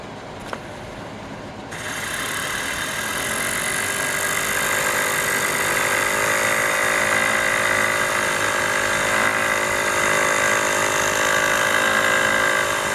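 A Newman Neorotor generator spins up from quiet to a steady, loud high-pitched whine with layered tonal hum that holds level for the rest of the run.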